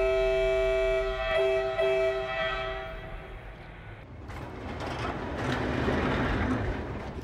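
A freight train carrying spent nuclear fuel out of Serbia in a pre-dawn rail yard sounds a long sustained horn blast, followed by a low rumble and scattered metallic clanks as the train is readied to depart.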